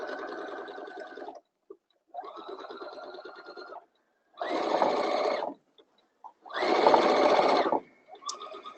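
A sewing machine stitches a row on a tutu in short separate runs, a close rapid mechanical whirring that starts and stops several times, the later bursts louder, with quiet gaps between.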